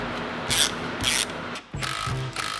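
Ratchet tightening bolts on the rear suspension arms of a Lexus IS300: two bright bursts of rapid clicking close by, followed by more ratcheting against a low workshop background.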